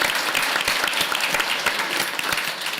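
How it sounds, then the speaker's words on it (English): Loud, dense applause from the audience at a Calgary mayoral debate, steady and continuous through the short stretch with no talk over it. "Big round of applause."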